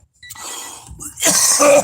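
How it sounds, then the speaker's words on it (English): A single harsh, bursting cough up close, following a brief faint sound and quiet pause, with no talking. "I'm sorry, I'm coughing."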